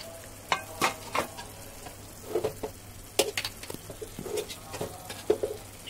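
Chilies being stirred in a pan of hot oil for a pickle: soft sizzling frying under repeated clacks and scrapes of a spoon against the pan, irregular and close.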